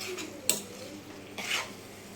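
Boiled pieces dropped into a frying onion-tomato masala and stirred, giving a sharp clink followed by a brief sizzling scrape, then a second short burst of stirring.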